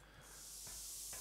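Spray painter in ARK: Survival Evolved giving off a steady airy hiss that builds after a brief start and holds for about a second, with two faint soft thumps mixed in.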